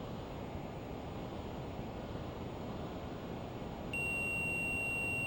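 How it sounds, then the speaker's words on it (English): An aircraft cockpit altitude alert beeps once and then holds as a steady high tone during a flight near the equator, cutting in clearly over a constant background of wind-like cockpit noise with no talk. "Ooh, noisy beep there."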